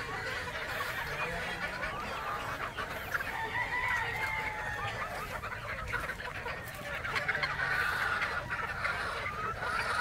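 A crowded flock of chickens and roosters clucks and crows continuously, a dense steady chatter of many birds at moderate distance.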